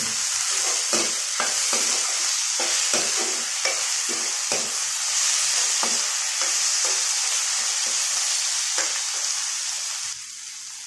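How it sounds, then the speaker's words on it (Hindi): Crushed ginger, garlic and chilli frying in a pan for chicken biryani, a loud steady sizzle with repeated scraping stirs, quieting slightly at the end. "अदरक लहसुन और मिर्ची का कुटा हुआ डाल देंगे और इसको भी साथ में भूनेंगे।"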